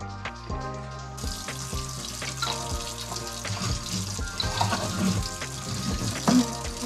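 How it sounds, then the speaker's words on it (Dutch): Hot water pours and splashes over hands at a kitchen sink while making raspberry and peach jam, a continuous running-water gurgle mixed with clinks of jars and utensils, close and moderately quiet. "Ik gooi even heet water over mijn handen heen."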